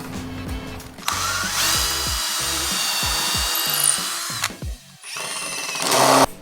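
A power drill whines loudly as it bores into wood for a porch swing, running in a long sustained burst, stopping briefly, then revving again up close.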